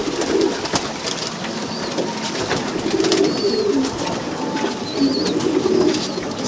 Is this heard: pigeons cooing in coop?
yes